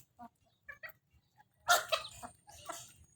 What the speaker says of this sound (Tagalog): Si Astig Lola, nagpapakain ng manok.